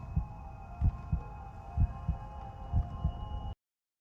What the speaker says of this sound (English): He's listening to the heartbeats.